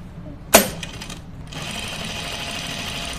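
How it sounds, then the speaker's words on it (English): A home sewing machine sews a shirt placket, starting after a sharp click and then running at a steady, even hum close by. "let's sew my placket"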